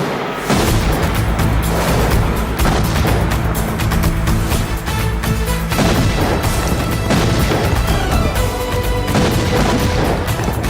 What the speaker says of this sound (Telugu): బాంబులు అప్పుండ్రీ.